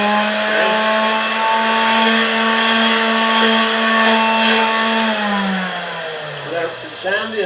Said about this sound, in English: So I take this regular hand sander, sand the